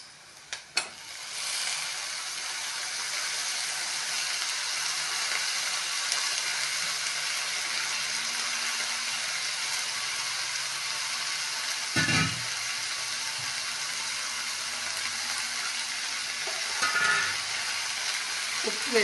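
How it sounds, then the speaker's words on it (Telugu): Brinjal pieces drop into a hot pan and fry with a continuous, even sizzle, interrupted by a few short clatters of stirring. "ఇప్పుడు చక్కగా వంకాయ ముక్కలు వేసేసుకుందామండి."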